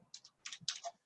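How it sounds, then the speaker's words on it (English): Quiet, close clatter of fingers typing on a computer keyboard, a quick irregular run of key presses with short pauses. "Just start typing."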